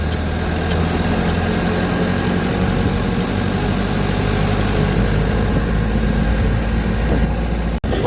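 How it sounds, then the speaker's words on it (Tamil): A vehicle engine drones steadily and loudly as it rolls downhill on a forest road near Kuralnatham and the Gangavalli reserve forest, a constant low rumble with vibration that holds throughout, cut by one brief dropout near the end. "வண்டி மறுபடியும் கீழே இறங்குறக்கு ஆரம்பிச்சிருச்சு. இறக்கத்தில் போகுது."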